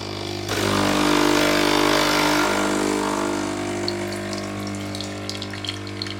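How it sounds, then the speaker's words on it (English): A home espresso machine runs a coffee shot with a Mocha Italia Arabica and Robusta blend, starting with a click and then a loud, steady pump hum and watery gurgle that continues throughout, with faint sputtering toward the end. "We are ready to run the coffee shot now."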